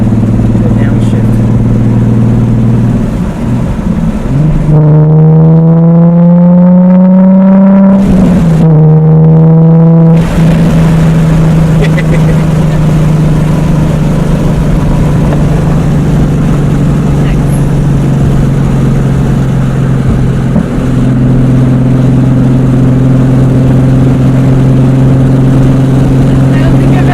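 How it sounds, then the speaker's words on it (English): The VQ-powered Nissan 350Z, fitted with a Tomei titanium exhaust, drones loudly and steadily, then climbs through two rising revs that cut off abruptly before settling back to a heavy, sustained rumble, with voices underneath. "your crackles sound good with this titanium exhaust"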